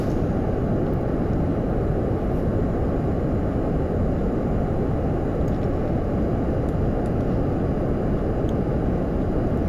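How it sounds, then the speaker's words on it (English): A rocket lifting off in Kerbal Space Program, with a loud, constant, broad roar of engine rumble that holds steady for the whole stretch, with no voices. "3, 2, 1. Lift off."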